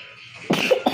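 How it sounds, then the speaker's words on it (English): Several short coughs burst out in quick succession after a quiet moment, close and fairly loud. "Oh, he's coughing right now."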